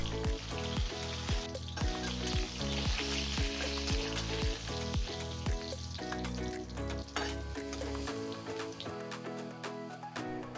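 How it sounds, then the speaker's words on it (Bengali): Panch phoron, one dried red chilli and a bay leaf fry in two tablespoons of oil in a kadai, a continuous crackling sizzle running beneath loud rhythmic background music. "একটা কড়াতে আমি 2 টেবিল চামচ তেল দিয়ে 1/2 টিস্পুন 5 ফোড়ন, একটা শুকনো লঙ্কা আর তেজপাতা একটা দিয়ে ভালো করে ভাজলাম"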